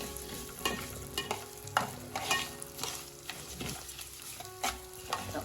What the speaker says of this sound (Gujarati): અને આ રીતે આપણે ચમચાની મદદથી હલાવતા જઈશું।